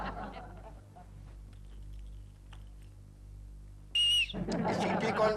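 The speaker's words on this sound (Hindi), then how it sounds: "सीटी कौन बजा रहा है?" A loud, steady whistle blast lasting about half a second cuts in mid-scene inside an office cabin of a Hindi TV sitcom, following low background chatter, with a burst of louder voices right after.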